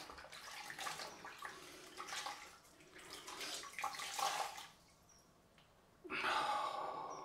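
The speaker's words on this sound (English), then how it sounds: "I'm just going to wipe, just rinse off this cloth briefly" A cloth is rinsed under a running tap during a straight razor shave, giving bursts of splashing water that pause briefly and then return as a steady, close stream.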